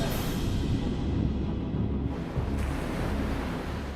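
Heavy ocean surf crashes and roars continuously in a dangerous surf zone with strong undertow, a loud, dense wash of breaking waves mixed with wind buffeting the microphone, with no voices.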